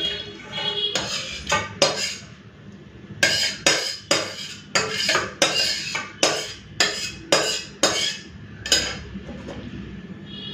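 Poppy-seed pointed gourd curry poured from a pot, with repeated metal clinks and scrapes of pots and utensils in an uneven rhythm, close and fairly loud, no talking.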